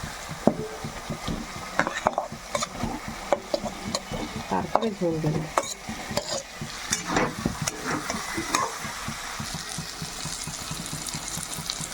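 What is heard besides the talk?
fried potatoes sautéed in spice paste for fish curry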